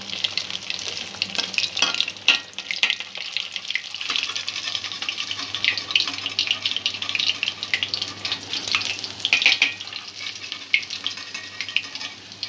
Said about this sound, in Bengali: সবকটা মাছই এইভাবে আমি ভেজে নেব